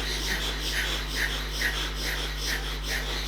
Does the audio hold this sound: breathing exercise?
yes